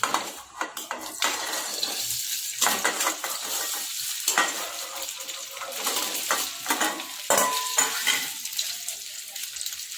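Potato pieces fry in hot oil in a pan for aloo chaat, sizzling steadily while a spatula scrapes and clinks against the metal pan in irregular bursts.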